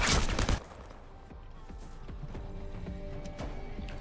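Video game gunfire with headshots during a World of Warcraft hardcore run: a loud opening burst of shots, then scattered quieter impacts and clicks over a low, steady game background.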